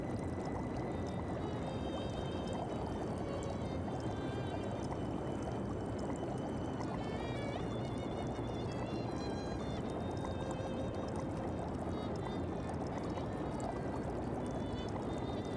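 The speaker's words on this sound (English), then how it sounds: "Just look at those beautiful water droplets. It appears to be founting correctly now." A fountain sprays water in Shadows Over Loathing, a continuous, even pouring and splashing that holds steady throughout with no talking over it.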